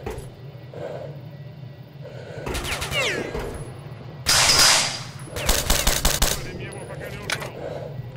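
Bursts of automatic gunfire in the shooter game STALKER: Shadow of Chernobyl, several sharp volleys over a low droning ambience, with a person talking in between.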